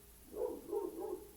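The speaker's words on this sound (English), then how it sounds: "Sorry, that is my dog." A pet dog at home barks three times in quick succession, fairly faint and somewhat muffled, with no talking over it.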